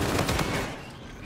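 A burst of rapid automatic fire from an SMG-hybrid assault rifle in a team deathmatch video game, a few quick close shots that trail off into a fainter tail within about a second.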